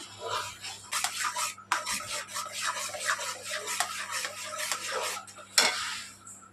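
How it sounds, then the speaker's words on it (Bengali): Liquid milk stirred in a cooking pot for palm fruit pudding: a close, continuous scraping and swishing of the spoon against the pot, with rhythmic strokes and a sharper knock near the end. "গোলা দুধ দিয়ে একটু নাড়তে থাকবো"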